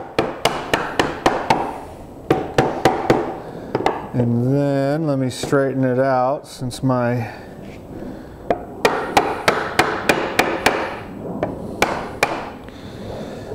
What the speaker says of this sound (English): massage that in there with your hammer